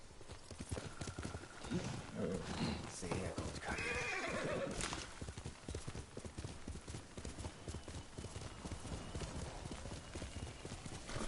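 Hooves clip-clop in a quick rhythm as Kage, the horse in Ghost of Tsushima, gallops along, and one loud neigh rings out near the middle. Someone speaks briefly over the hoofbeats.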